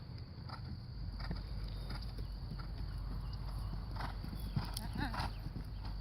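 Horse trotting during dressage schooling, hoofbeats thudding in a steady clip-clop rhythm at moderate distance over continuous low background noise, with talking heard now and then.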